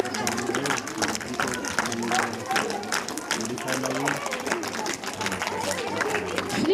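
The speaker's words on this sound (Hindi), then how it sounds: "जोरदार तालियों के साथ उनका स्वागत करें।" Loud applause from an Indian school event audience welcoming guests onto a stage: dense, continuous crowd clapping mixed with chatter and a few voices, sustained at an even level throughout.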